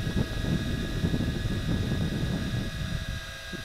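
Tarantula X6 toy quadcopter drone flying high overhead, a thin steady motor whine with constant tones carried over soft wind noise, faint and continuous with no voices.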